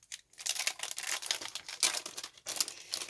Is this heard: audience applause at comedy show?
no